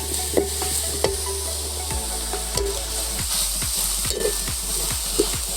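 Monitor lizard meat dry-stirred in a pot without oil, a spatula scraping and clacking in an irregular rhythm over a steady close sizzle and hiss, no voices.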